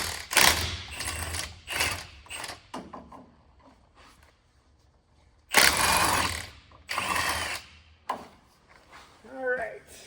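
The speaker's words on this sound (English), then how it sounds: "I guess I should take out the CV axle first." A CV axle is worked out of a truck with hand tools: bursts of ratcheting, metallic clanks and rattling come in irregular spurts with short pauses between, close and fairly loud.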